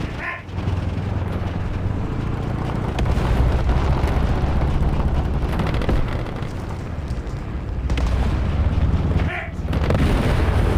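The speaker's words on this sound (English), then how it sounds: "Let me send the artillery" Artillery fire from a British self-propelled gun in War Thunder Mobile, a dense, loud, continuous rumble of booms and blasts with a few sharper reports, heard without any voice over it.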